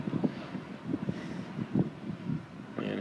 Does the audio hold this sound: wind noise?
yes